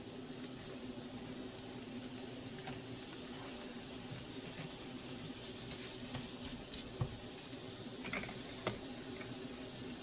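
Grits being stirred in a pot on a stovetop, with a steady low sizzle and a few soft scrapes near the end; no talking.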